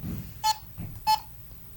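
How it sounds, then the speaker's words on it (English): An EMF meter gives two short, clear electronic beeps about half a second apart, alone over faint low background rumble. "it sounds like this when you have an EMF indication"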